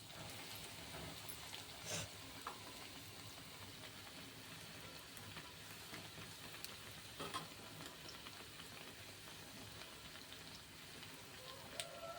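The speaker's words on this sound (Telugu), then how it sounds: "గమ్మునే ఫ్రై అయిపోతాయండి. ఇవి బ్రెడ్ స్లైసెస్ కదా" Bread slices fry in ghee in a pan, giving a steady, even sizzle that runs throughout with a few faint clicks and stirs and no talking.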